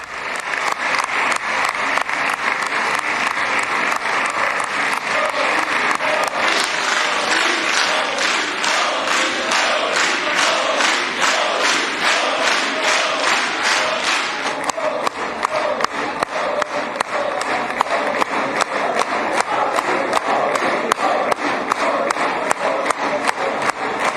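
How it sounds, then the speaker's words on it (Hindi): Sustained loud applause and rhythmic chanting of a leader's name fill the Israeli parliament chamber for Prime Minister Modi, a dense crowd clapping steadily throughout with shouted chants rising over it. "वहां संसद में मोदी के लिए ताली बज रही है।"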